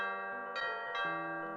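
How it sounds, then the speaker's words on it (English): A two-note ding-dong doorbell chime rings once, its tones ringing out and overlapping, clear and near with no talk. "Just then the doorbell rang."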